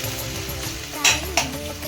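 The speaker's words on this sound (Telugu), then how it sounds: "ఆనియన్ పచ్చిమిర్చి కరివేపాకు వేసి ఫ్రై చేస్తాం ఫ్రెండ్స్" Onion, green chilli and curry leaves fry in a pan with a steady, close sizzle, broken near the middle by two sharp scrapes of a spatula against the metal.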